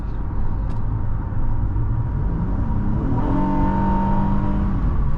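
A 2019 Honda Passport Touring SUV with a 3.5-liter V6 accelerating hard, its steady engine drone rising into a climbing rev partway through, heard loudly from inside the cabin with no talking.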